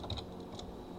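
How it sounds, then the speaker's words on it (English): A few soft keystrokes on a computer keyboard while entering a command, quiet and close, a brief cluster of clicks over faint room hum. "Then type in"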